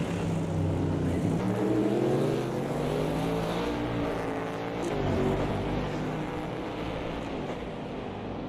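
Race cars in a CASSCAR Can-Am SimSport sim race at Adelaide, engines droning loudly and continuously as they run down the straight, pitch rising and falling with revs and gear changes.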